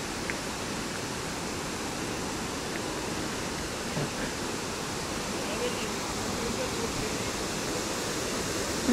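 Dense, steady rushing roar of illuminated waterfalls and fountains at night in Antalya, Turkey, a broad unbroken wash of falling water heard up close and fairly loud throughout.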